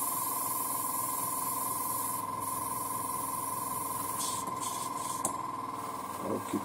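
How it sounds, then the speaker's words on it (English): An airbrush being cleaned sprays a continuous steady hiss with a faint high whine, holding level throughout, followed by a few brief clicks and handling taps near the end. "So let's clean the airbrush."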